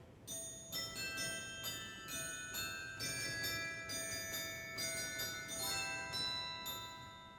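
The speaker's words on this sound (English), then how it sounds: "Here's a glockenspiel." The glockenspiel stop of the Kotzschmar pipe organ strikes a melody of bright, ringing metallic notes, each chime sustaining and overlapping the next in a steady rhythm.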